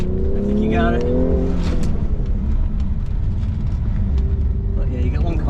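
Autocross car accelerating at Pitspitters Park, Traverse City, engine rising in pitch in short revving pulls under a steady rumble, heard from inside with a person coaching over it.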